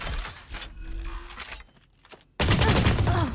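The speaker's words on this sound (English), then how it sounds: "Hey Snips, you gotta shoot the enemies" Gunfire in the Valorant video game comes as dense bursts of rapid shots, loud and close, with a short quieter gap before another heavy volley cuts in.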